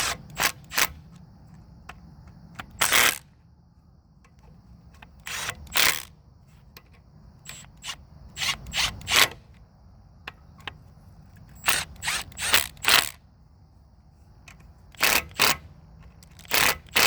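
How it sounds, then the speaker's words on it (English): A Milwaukee M12 impact gun with a socket drives bolts onto an antique Briggs and Stratton engine, in short sharp bursts of rattling hammering scattered irregularly with quiet gaps between, close and loud. "I'm going to use my Milwaukee M12 impact gun with the socket on it. Get these all zipped on."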